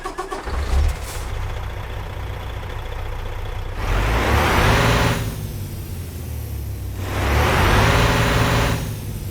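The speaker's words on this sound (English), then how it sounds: "That is what you've just heard, the MX-13 stock engine sound mod" Kenworth T680 Next Gen day cab truck in American Truck Simulator, with a Cummins-style MX-13 engine sound mod: the engine cranks and starts, settles into a deep idle, then revs up twice in long rising-and-falling swells, loud and close.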